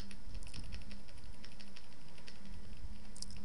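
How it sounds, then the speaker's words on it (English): Computer keyboard arrow keys are pressed in a quick run of light, close clicks at an uneven pace while moving a character in a game-making program, with no other sound. "I'm gonna use my arrow keys like so."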